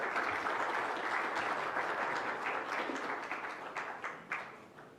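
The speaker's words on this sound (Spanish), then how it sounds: "Un fuerte aplauso para la señora Maribel." An audience at an economic forum in a hall applauds steadily, a dense wash of many clapping hands that holds for several seconds, then thins and fades with a few scattered claps at the end.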